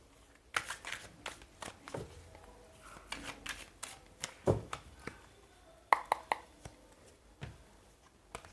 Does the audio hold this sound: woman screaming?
no